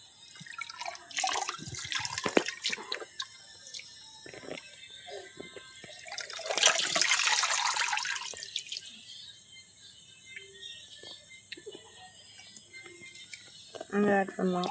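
Water pours, splashes and drips while being changed in a fish aquarium, with a louder gushing burst midway among scattered drips and trickles, close by; a voice talks over parts of it.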